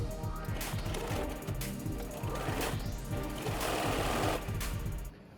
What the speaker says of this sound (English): So let's do our shoulder seams with the Bernina, and I'm going for the overlock stitch